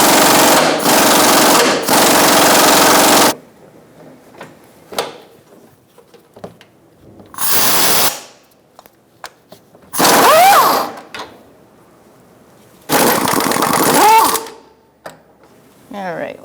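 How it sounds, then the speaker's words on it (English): A power tool with a 14mm socket and extension spins out engine torque strut mount bolts on a 2012-2017 Hyundai Accent 1.6L, in four loud rattling bursts separated by quieter pauses with faint handling noises. "using a 14mm and an extension, I'm going to remove my mounting bolts"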